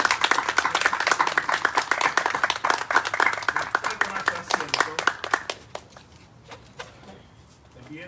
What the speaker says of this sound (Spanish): Un aplauso más.